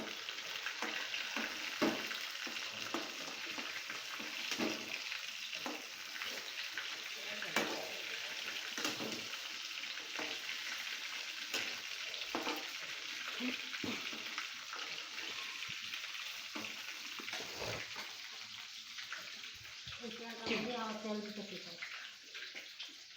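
Chicken pieces fry in oil in a pan, making a steady, quiet sizzle with scattered clinks and scraping stir sounds throughout, close by and continuous for the whole stretch.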